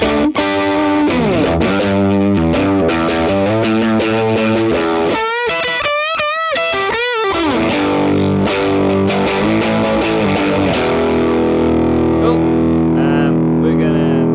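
An electric signal runs through a saturate effect with input gain turned up, giving a gritty, distorted sustained tone with shifting pitch bends and harmonics, loud and continuous.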